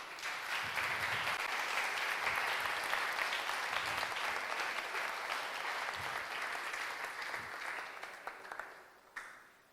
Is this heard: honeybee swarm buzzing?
no